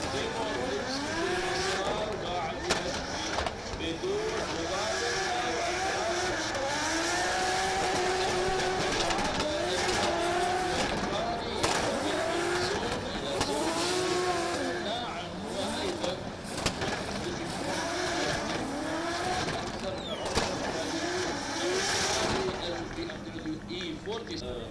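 A Toyota Mark IV Supra drift car at the Oman International Drift Championship 2023 howls at high revs with warbling engine notes and tire squeal, loud and sustained, while a commentator talks over it.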